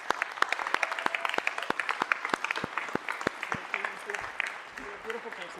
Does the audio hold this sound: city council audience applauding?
yes